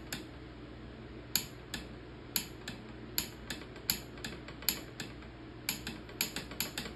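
A torque wrench clicks while tightening bolts on a Ford 302 engine: a run of about a dozen sharp, close metallic clicks, irregularly spaced and bunched toward the end, over a low steady background hum.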